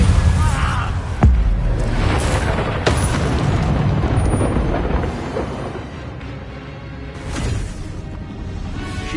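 Bombarda spell explosions in the video game Hogwarts Legacy: a few heavy booming bursts land over a dense, continuous layer of game noise and effects.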